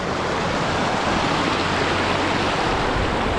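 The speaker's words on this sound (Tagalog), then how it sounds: "Ito yung may ginto, yung malaking ilog." A large river runs steadily after a typhoon, where gold is panned from its bed: a continuous, dense rushing wash of water, close and fairly loud, with no voices.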